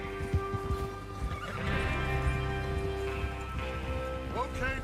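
Horses in Red Dead Redemption 2 at a gathering before a train robbery: several hoof clops early, then a long whinny and snorting under a steady hum of game ambience, with faint voices.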